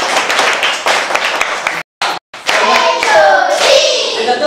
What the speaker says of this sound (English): clap for her, clap for her.